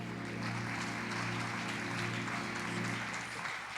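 A congregation at a deliverance church service applauds in steady, dense clapping that carries on throughout, over sustained tonal music in the background.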